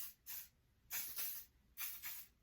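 Hairspray in a super fine mist hisses onto hair in three paired bursts, each a pair of quick sprays, fairly soft and close with quiet gaps between them.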